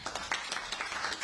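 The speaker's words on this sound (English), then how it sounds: "You clap on a good day." Audience at a city leaders' press event for a small-business storefront repair fund claps briefly, a moderate, steady patter of many hands at medium distance with no talking over it.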